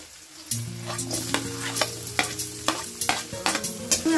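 Green chilies, garlic and onion fry in hot oil in a pan for a puti fish curry, a steady sizzle broken by repeated sharp stirring clatters of a utensil against the pan.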